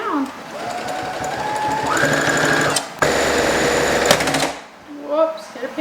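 A sewing machine straight-stitches a quarter-inch seam on a T-shirt blanket, a loud rapid mechanical chatter running in two bursts with a brief pause, and a voice speaking over it near the end.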